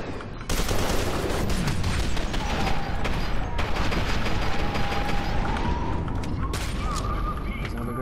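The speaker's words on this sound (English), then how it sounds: "There's another grenade." Sustained gunfire with a grenade blast in the PC shooter F.E.A.R. 2: Project Origin, a loud, dense wall of rapid shots and booming explosion running continuously after a short quiet start, with faint tonal game effects.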